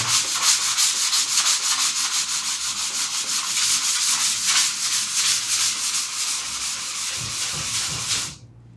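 Sandpaper rubs back and forth on a Top Flite P-51D Mustang model airplane wing panel in quick, even strokes, loud and close, continuing for about eight seconds before stopping.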